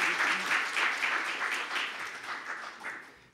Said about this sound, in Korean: 그런 의미에서 우리가 박수를 한번 보내도록 하겠습니다.